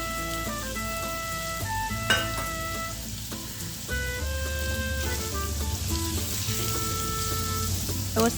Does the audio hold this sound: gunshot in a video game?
no